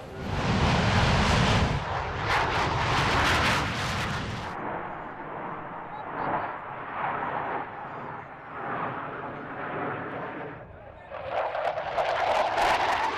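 An aerobatic airplane's engine roars loudly overhead, rising and falling as it passes and then drifting into a softer drone. Talk is heard during the flyby.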